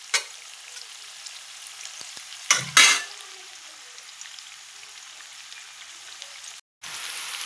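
Onions fry in a pan with a steady, hissy sizzle, broken by a couple of louder bursts of spatula scraping and a brief drop-out near the end.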